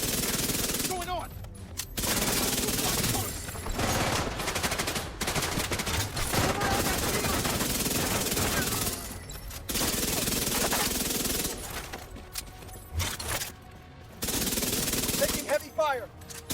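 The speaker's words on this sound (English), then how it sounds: "Taking heavy fire." Heavy automatic gunfire rattles through a firefight in the shooter game The Division 2, with long, loud bursts broken by a few short pauses and some voices over the shooting.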